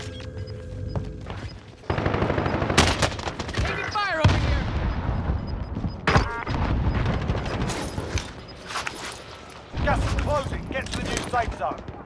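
Gunfire in the battle royale shooter Warzone, sharp bursts of shots and booming impacts in several clusters, loud and close, mixed with game voice callouts and talk.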